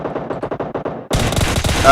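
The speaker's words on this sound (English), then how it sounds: "they come under a hail of gunfire" Rapid automatic gunfire in a battle royale video game, a quick burst of evenly spaced shots followed by a louder, denser hail of overlapping fire.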